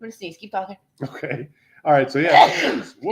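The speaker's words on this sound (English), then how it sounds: "I'm going to sneeze." During a talk-show conversation, a person lets out one loud, close sneeze, and speech comes just before and after it.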